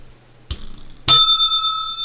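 A bicycle-style bell rings close and loud, one short strike followed by a second ring that hangs on with a bright, sustained shimmer.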